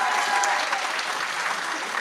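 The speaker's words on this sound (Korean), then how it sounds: "큰 박수 부탁드리겠습니다." Steady applause from a crowd at a Reform Party (Gaehyeoksindang) election rally in Korea, greeting an introduced guest; dense, continuous clapping that stays even and fairly loud throughout.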